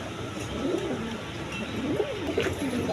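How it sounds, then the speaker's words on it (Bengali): Short face pigeons cooing at a pigeon market stall, soft repeated throaty coos rising and falling close by over a low background hum. "দেখেন শর্ট ফেস কবুতর আছে"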